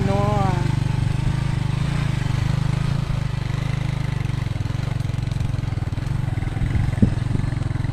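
A motorcycle engine runs with a steady, close, throbbing drone while riding up a mountain road, wind rumbling over it and voices talking along the way.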